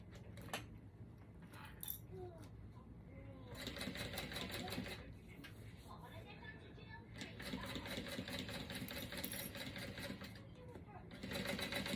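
A domestic sewing machine basting a zipper onto a small fabric pouch, its needle whirring in bursts of rapid mechanical clatter separated by short pauses, quiet and close, with no talking.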